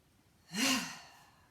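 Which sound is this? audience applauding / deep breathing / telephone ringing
deep breathing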